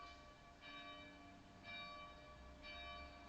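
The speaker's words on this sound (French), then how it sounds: "malgré l'angélus là qui sonne à Martiole" Angelus church bells ringing out over a village at Martiole, a steady metallic toll swelling in three repeated strikes about a second apart, heard at a moderate distance with no talking.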